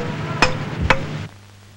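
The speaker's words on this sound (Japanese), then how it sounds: "ハーケンは割れ目にあったものを岩の目に沿って根元までしっかりと打ち込む。" A steel piton being driven into a rock crack: two sharp, ringing metallic hammer strikes about half a second apart, close and clear over a quiet outdoor background.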